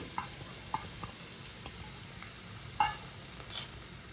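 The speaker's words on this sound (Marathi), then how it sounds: "1 चमचा मी तूप घातले, त्याच्यात आपल्याला गूळ घालायचा आहे" Jaggery cooking in a spoonful of ghee in a pan, with a faint, low sizzle and light, irregular scrapes and taps of a spoon stirring.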